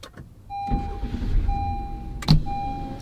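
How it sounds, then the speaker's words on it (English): A car is switched on: a clear electronic dashboard chime sounds in repeated tones over a low steady hum, with a sharp click near the end and no voices. "now we're gonna turn on the car"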